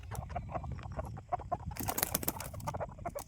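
Hens cluck steadily up close at dusk as they enter a basket, short repeated clucks with a louder burst of scuffling and flapping in the middle.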